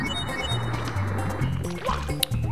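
Water in Super Mario 64's Wet-Dry World shifts level, heard as a watery gurgling and filling sound with bubbly tonal blips and a game jingle, fairly loud and close.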